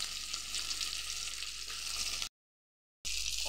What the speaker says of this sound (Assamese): তেলতে শুকান মাছখিনি ভাজি ল'ম।